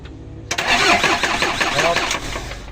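An Isuzu 4HF1 diesel engine with no fuel coming through cranks after a quiet start, giving a loud rhythmic whirring churn that runs on without catching. A voice is briefly audible over it.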